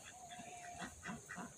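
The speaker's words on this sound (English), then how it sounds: "Here comes the ducks." Ducks in a wooded permaculture food forest garden give a few faint, low honking quacks, soft and somewhat distant in a quiet outdoor setting.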